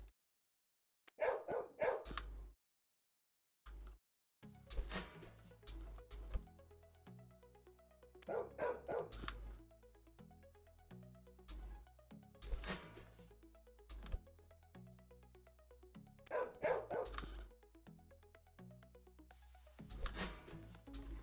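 Dogs barking in a pet shop simulator game: repeated bursts of yapping barks and yips, fairly close, separated by pauses over a quiet musical background.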